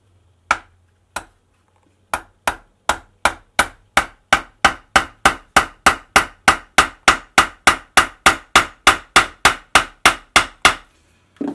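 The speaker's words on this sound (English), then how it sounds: "We're just going to hammer it away." Hammer striking metal feet into a leather baguette bag set on a granite block: two sharp taps, a pause, then a long even run of about thirty crisp, loud blows at a steady quick rhythm, close and with no talking.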